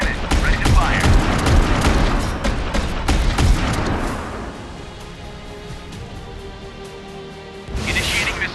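Naval warship cannon and missile fire in a mobile naval battle video game: a loud, dense barrage of booming blasts and crashing impacts for about four seconds, then a lower rumbling lull with a tonal hum, and a final burst near the end.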